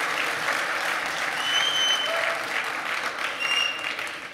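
Family and friends applaud loudly at a police academy class graduation, a dense, steady wash of clapping from a large audience that holds throughout, with a few faint whistles rising above it.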